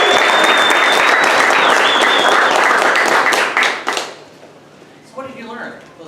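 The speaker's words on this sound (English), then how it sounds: "Give yourselves a round of applause." Loud, sustained applause from an audience at a Startup Weekend event in Iowa City, dense clapping and cheering that fades after about four seconds, then a few voices talk.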